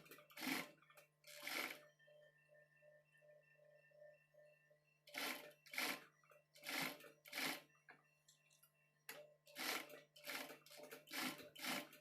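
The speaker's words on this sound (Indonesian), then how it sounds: "Kemudian kita jahit sampai ujung belalai." Sewing machine stitching along an elephant doll's trunk in quick rattling bursts, several short runs separated by quiet pauses, close and clear with a faint steady hum beneath and no talking.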